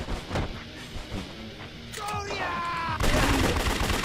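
Gunfire in the action game Yakuza 3 Remastered, a few sharp shots mixed with hits and game effects, loud and close, overlapping other combat sounds and music.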